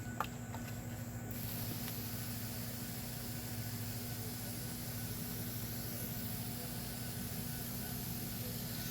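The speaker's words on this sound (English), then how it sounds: "Then we are going to spray that in." Water sprays gently onto newly replanted sweet peas in a garden, a steady, even hiss that runs for the whole stretch, with no pauses and no talking.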